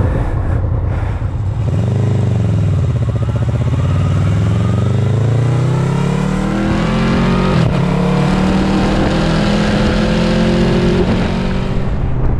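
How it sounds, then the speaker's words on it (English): A loud Honda VFR800F (8th generation) motorcycle with a throaty SC Project Conic aftermarket exhaust revs up and down close by, pitch rising and falling in long sweeps over about twelve seconds. "Wish I had that exhaust on my bike."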